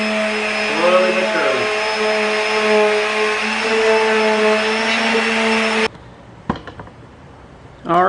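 Sanding a cracked carbon fiber rear diffuser from an FRS by hand with 400 grit sandpaper, a steady loud abrasive whir with a tonal hum for about six seconds, then it cuts off to quieter room sound with a few knocks.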